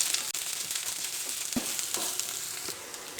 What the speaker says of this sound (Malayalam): സവാളയും ഒന്ന് വാടണം. അപ്പോൾ കുറച്ച് സമയം ഒന്ന് ഇളക്കി കൊടുക്കാം.